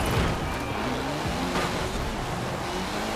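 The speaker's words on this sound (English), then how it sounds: "snow racing on street tires in a Gymkhana car" Gymkhana car on street tires racing across snow in Forza Horizon 4, a steady loud engine drone with tire squeal and sliding sounds throughout.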